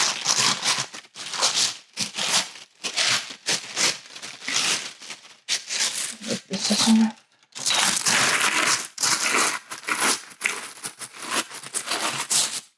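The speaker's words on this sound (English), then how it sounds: "Sorry about the crinkly paper noise." Crinkly pattern paper for self-drafted pajama pants being handled and shifted up close, a loud, continuous run of crackling and rustling with short pauses, briefly interrupted by a few spoken words.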